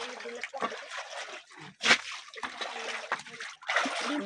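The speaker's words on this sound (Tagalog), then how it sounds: "lagyan nyo ng tubig" Water is poured and splashed into a freshly washed basin in uneven bursts of sloshing and trickling, with people talking in between.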